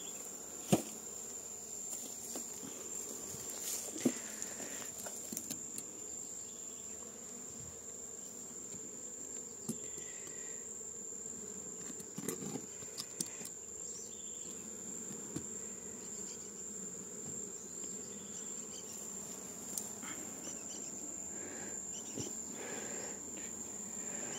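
A honeybee swarm hums and buzzes continuously and close while a beekeeper works it with a smoker during a hive split with two frames; a steady insect drone with faint scattered taps and clicks, no voices.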